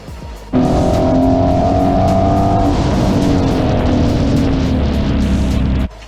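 A Ford Mustang GT350 and an Audi S3 launch side by side at a spectator drag race, engines roaring loud and steady for several seconds before cutting off abruptly.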